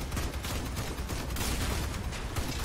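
Rapid bursts of 20mm autocannon fire in the vehicle combat game Crossout, loud and continuous with dense overlapping shots and explosions, no talking.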